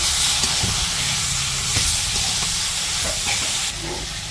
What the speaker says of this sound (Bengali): সবজিগুলা কষিয়ে নিতেছে